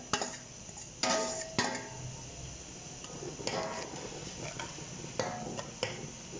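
Stirring pulao with tomatoes, green chili and ginger in a pot, quiet scraping and clinking strokes coming in a few sharp bursts over a low sizzle, close by and with no talking.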